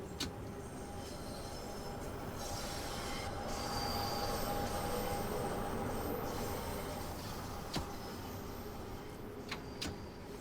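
London Underground Bakerloo Line train in the video game Train Sim World 2 running steadily in a tunnel, with a continuous rumble, faint wheel squeals and occasional clicks from the track, heard alone.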